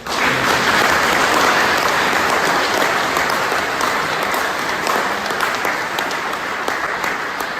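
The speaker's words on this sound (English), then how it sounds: "Let us give a round of applause to these men and all the men and women who served for the Huron Fire Department." Sustained audience applause honoring veterans of the Huron Fire Department at its 150th anniversary celebration in Huron, Ohio, a dense, loud wash of clapping that holds steady throughout without anyone speaking.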